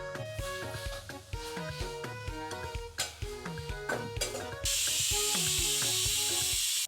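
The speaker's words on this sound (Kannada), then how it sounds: "ಈಗ 1 ವಿಜಿಲ್ ಆಯಿತು, ಇದು ಆಫ್ ಮಾಡಿಬಿಡೋಣ" A pressure cooker holding potato, ginger and garlic gives a loud, steady steam hiss from its whistle. The hiss follows a stretch of clinking and tapping kitchen sounds and cuts off abruptly.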